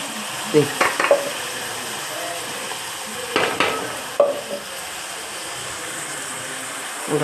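Tomatoes and green chillies frying in a pan, a steady soft sizzle with a few brief stirring clatters and scrapes of utensil against the pan.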